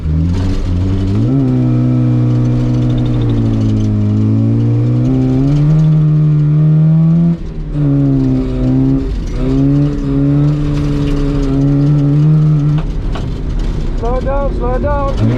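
A Toyota Corolla KE70 with a welded differential accelerates hard, its engine droning loud and close and rising in pitch through the gears, with a brief dip at a shift. A voice talks over the engine.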